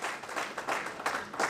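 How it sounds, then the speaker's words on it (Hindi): Audience applause in an auditorium welcoming a newly appointed assistant professor at a felicitation ceremony for university teachers in Bihar: a steady, moderately distant patter of many hands clapping throughout. "पूरे जोरदार तालियों के साथ हम डीएन साहब को स्वागत करते हैं।"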